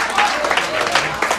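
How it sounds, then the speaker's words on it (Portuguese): A church congregation applauds during an evening service, a short burst of dense clapping with a voice speaking over it. "Aplauda o Senhor e muito obrigado por vocês me ouvirem nesta noite."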